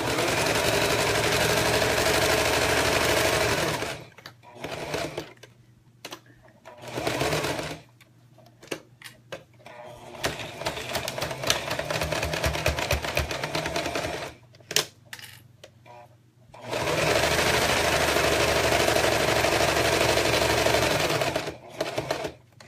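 A sewing machine runs in long continuous bursts of rapid stitching while going around all four sides of a zipper project, with short pauses and quieter handling noises between the runs.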